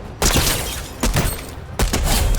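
Gunfire in the game Fortnite, three loud close bursts of shots spaced about a second apart, each trailing off into a brief ringing tail.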